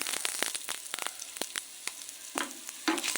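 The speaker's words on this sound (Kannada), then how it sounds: "ಫ್ರೈ ಮಾಡ್ತಾ ಇದ್ದೀನಿ" Garlic cloves, ginger and a piece of cinnamon fry in hot oil in a pan for veg kurma, crackling and sizzling with quick popping spatters and a few stirring scrapes, close and moderately loud.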